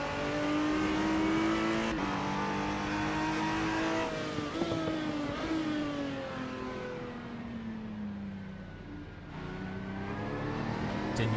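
A race car engine in Assetto Corsa on a slow, tyre-saving out lap, with a loud, close, steady drone that rises and falls through several gear changes, pitch dropping as it slows, no talking.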